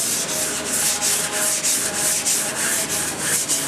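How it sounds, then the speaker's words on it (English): Hand sanding of slightly gummy body filler on a car during bodywork before primer, a loud, continuous rasping scrape in steady back-and-forth strokes, close up and with no voices. "It's a little bit more gummy to sand, but not too bad once it dries."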